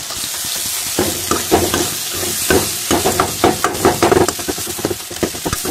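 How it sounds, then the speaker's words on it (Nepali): Wasp larvae with garlic and ginger paste sizzle and crackle in a hot pan while a utensil scrapes and stirs them in irregular bursts, close and loud. "यो पहेँलेको लार्भाको भुटुवा पाकेर तयारी हुन लाग्यो है"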